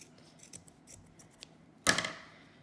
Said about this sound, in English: Stick your scissors through all the holes. Then you just cut.